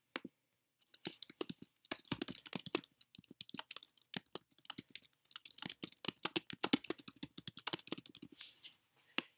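Typing on a computer keyboard, a quiet, close run of irregular key clicks with brief pauses, no voices.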